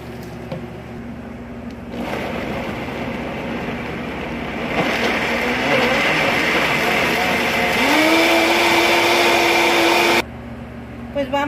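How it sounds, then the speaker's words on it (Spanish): Blender motor whirring as it purées tomatoes, cilantro, bean broth and shrimp for a bean and shrimp dish, a steady loud drone that rises in pitch partway through before cutting off abruptly. "vamos a licuar todo en el licuador"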